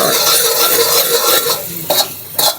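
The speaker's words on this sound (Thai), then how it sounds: "เนี่ยให้มันเดือดแบบนี้ทุกคนให้มันเดือดอย่างนี้เลย" Tamarind and fish sauce sweetened and cooked down in a pot, a close bubbling hiss with stirring clatter and two sharp scrapes near the end.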